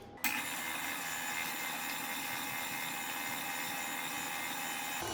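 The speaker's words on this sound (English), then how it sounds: "Whisk that." Whisking egg into cake batter makes a steady, continuous whirring from an electric mixer, close and even throughout with no pauses.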